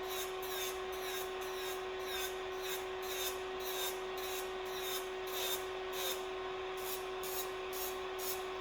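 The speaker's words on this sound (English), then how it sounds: "Yeah, I'm gonna hit that up with that cylinder drill bit." An electric nail drill with a cylinder bit files nails, giving a steady high motor whine with a rhythmic rasping pulse as the bit passes over the nail.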